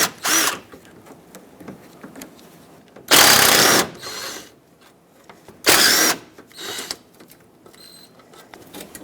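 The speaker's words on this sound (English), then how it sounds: "you can unbolt the three 10mm bolts that hold this on." A power ratchet on a long extension backs out the 10mm hood latch bolts on a 2007-2014 Chevrolet Silverado 2500HD. Three loud buzzing bursts, each about a second long, are separated by quieter clinks and handling noise.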